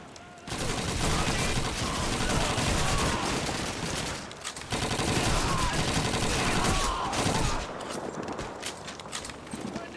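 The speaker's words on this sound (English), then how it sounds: "I can hear the MG" Sustained machine-gun bursts in the World War II shooter Call of Duty 2, loud dense rapid fire in two long stretches broken by a short gap, with more shooting trailing off toward the end.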